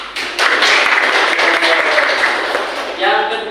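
A classroom of students claps together in a short burst that starts abruptly and holds steady, with voices and chatter mixed in near the end.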